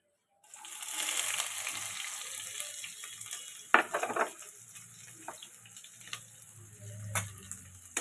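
Chopped onions frying in a pan for chicken kosha, a steady close sizzle with a few sharp spatula knocks and scrapes as they are stirred, no voices.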